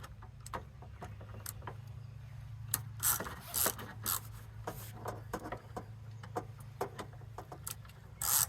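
Ratchet clicking in short bursts while a turn signal lens and tail light fitting are snugged onto a blue 1994 Oldsmobile coupe, close and fairly quiet over a steady low hum.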